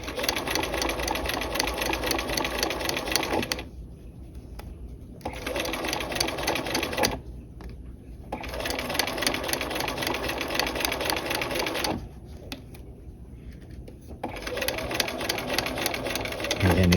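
Sewing machine stitching around a flap pocket: loud, steady runs of rapid needle chatter broken by short pauses, about four bursts in all, close up with no talking.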